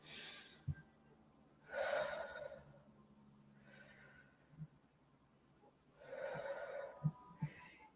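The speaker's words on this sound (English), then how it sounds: "Breathing in through the mouth, out through the mouth as well. Just heavy cleansing breaths." Heavy, slow breaths drawn in and pushed out through the mouth during a relaxation exercise, a few broad airy swells with quiet pauses between them and no talking.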